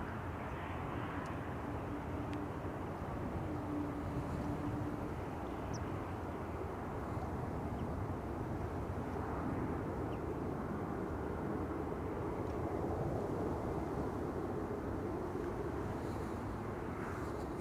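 Steady, broad rumble of airliner jet engines at a distance at Schiphol Airport, a continuous roar with wind noise, no voices.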